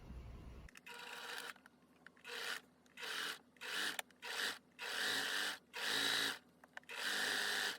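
A sewing machine zigzag-stitches elastic onto a lace bralette, running in about seven short, steady whirring bursts with brief pauses between them, close and moderately loud.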